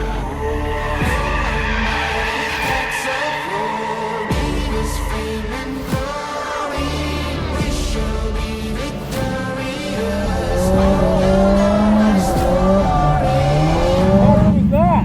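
Cars drifting in Japan, engines revving hard with repeated tire squeal and skidding, loud and close throughout, with voices and cheering mixed in.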